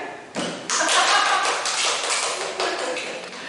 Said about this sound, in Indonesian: Tepuk tangan nggak sih?